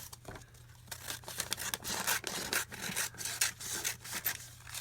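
Scissors cutting through coffee paper, a steady run of close, crisp snipping and rustling strokes that grow busier and louder midway, with no speech.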